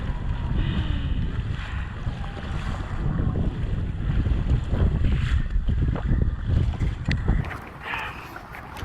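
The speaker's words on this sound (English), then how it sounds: "it's crazy windy out here" Strong gale force wind batters the microphone while kayaking on choppy water, a loud continuous roar with gusty surges and splashing beneath.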